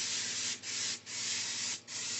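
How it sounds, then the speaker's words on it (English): Aerosol can of non-stick cooking spray hissing steadily onto a cake pan in three long bursts with brief pauses between them, close and fairly loud. "with non-stick cooking spray"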